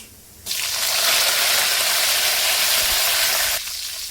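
Mustard seeds, cumin and curry leaves hit hot oil with a sudden loud, dense sizzle that holds evenly for about three seconds and then cuts back to a quiet hiss, heard close with no voice.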